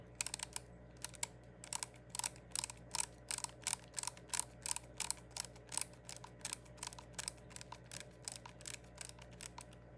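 An XS Sights minimalist adjustable rear sight on an S&W 44 revolver is turned, giving a long run of crisp, evenly spaced small clicks, close and clear against quiet room hiss.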